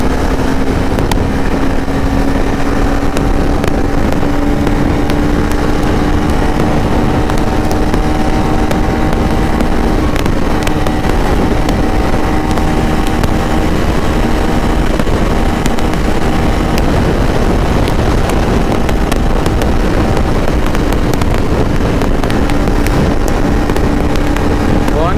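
A KTM 390 Adventure motorcycle rides at a steady pace, its engine a continuous loud drone with a slowly rising tone under heavy wind rush.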